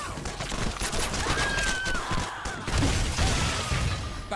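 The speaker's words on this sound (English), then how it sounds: "So I use a grenade launcher." Grenade launcher fired in the video game Shadow Warrior 2, a busy stretch of repeated bursts and crashing explosions with metallic clatter layered over game effects.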